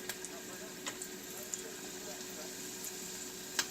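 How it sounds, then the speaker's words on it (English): Breaded Reuben rolls frying in hot oil, a faint steady sizzle and crackle with small pops scattered through, low in level. "I'm going to fry these up for 5-6 minutes until they turn golden brown"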